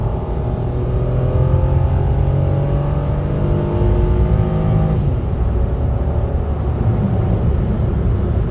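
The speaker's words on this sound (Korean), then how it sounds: "제가 한번 이렇게 급가속을 해볼 건데" A Kia Ray one-seat van accelerates hard, its small engine droning loudly with rising pitch for about five seconds before easing off to a lower steady hum, heard from inside.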